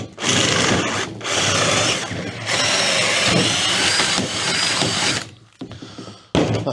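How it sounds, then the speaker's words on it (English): A power drill bores bolt-size holes for M8 bolts in a campervan build, running loud in long continuous bursts with a brief pause near the end before starting up again. "That's the majority of the holes drilled anyway."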